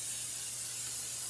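Non-stick cooking spray hissing from a can in a home kitchen before pork chops and homemade fries, one steady close burst of spray with no talking.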